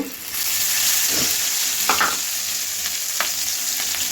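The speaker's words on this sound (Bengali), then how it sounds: "মাছগুলো ভাজা শেষ এখন ডিমটা ভেজে নেব" Eggs frying in hot oil in a pan, a continuous close sizzle with a few stirring scrapes and spatters, no talking.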